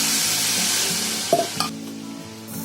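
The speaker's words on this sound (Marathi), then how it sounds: "गॅसवर हे तळायला घेते" Food fries in oil with a steady sizzle that fades toward the end, interrupted by a couple of clanks from stirring in the pan.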